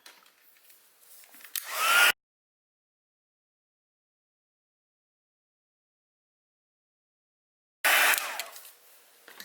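A heat tool for setting embossing powder on a stamped rose card blows a steady, loud airy whoosh, starting for about two seconds, cutting off into silence, then coming back near the end.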